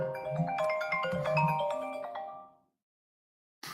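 A phone rings indoors with a bright, repeating electronic ringtone melody that plays for a couple of seconds and stops, then briefly starts again at the end.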